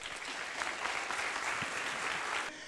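Audience applause at a campaign launch meeting for a municipal election: a steady, moderately distant wash of clapping that carries evenly and cuts off sharply near the end.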